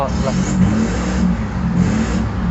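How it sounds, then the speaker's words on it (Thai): Exhaust of a silver CAP4 1.9 pickup truck with automatic transmission, revved up close, giving a loud, steady, throaty engine roar that holds for a couple of seconds. "เดี๋ยวลองมาฟังเสียงท่อกันดีกว่านะครับ"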